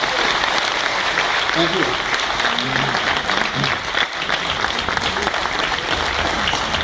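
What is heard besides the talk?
audience applause for a speaker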